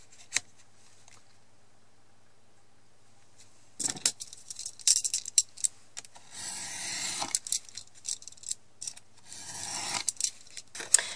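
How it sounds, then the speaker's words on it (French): Paper being trimmed by hand on a handmade card, with close, soft snips, rasping cuts and rustling coming in short irregular bursts after a quiet start. "je vais couper l'excédent toujours."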